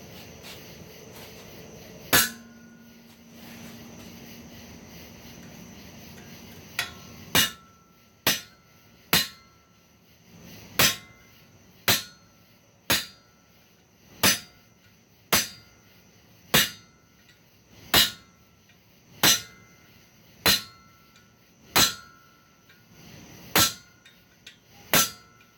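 Metal stock is split with hammer blows while reforging a blacksmith's tong rack, about fifteen sharp ringing strikes at a steady, evenly spaced rhythm after a brief low hum, loud and close in a quiet shop.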